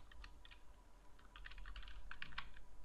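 Quiet, close tapping of keys on a computer keyboard while an email address is typed, in short irregular clusters over faint background hum.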